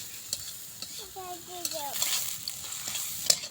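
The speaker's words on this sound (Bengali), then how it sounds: "কাঁচামরিচ দেওয়ার পরে এটাকে নাড়া হলো" Green chilies frying in oil with onion and garlic, stirred in a pan: a soft, steady sizzle with light scraping, fairly faint, with a brief tonal squeak partway through.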